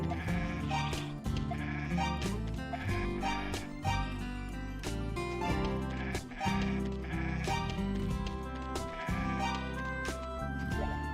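Goats in the video game Ys II Chronicles+ bleat repeatedly over a continuous background music track, the calls recurring every second or two at moderate loudness.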